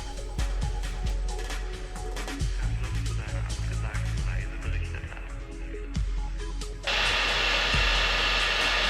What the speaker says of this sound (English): we just used the heat gun, kept it simple, and made it work